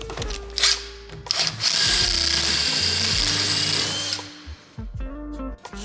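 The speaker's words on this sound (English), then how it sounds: "So now I got those holes drilled, and they're all down to the 3/8 size that this rod is." A power drill bores 3/8 inch holes into a boat motor, heard as a few short whirring bursts and then one longer sustained high-pitched run close by, followed by clunks of handling.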